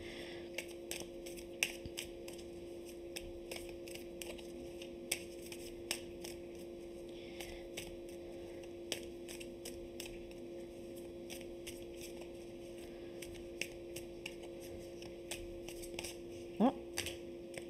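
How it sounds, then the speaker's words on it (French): Tarot cards handled and drawn during a love reading, with a string of soft, quick card flicks and taps repeating across a quiet room, a louder snap near the end. "Je vais clarifier ces cartes avec mes Everyday. Je vais prendre une carte pour chaque."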